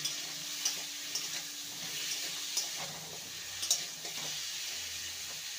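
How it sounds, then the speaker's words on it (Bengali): Potatoes and raw banana fry in a pan with a little turmeric and salt, giving a soft, steady sizzle with a few faint clinks and stirring scrapes. "আলু আর কাঁচকলা ভাজা হয়ে গেছে"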